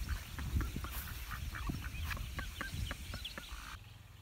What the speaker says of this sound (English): Ducks in the paddies.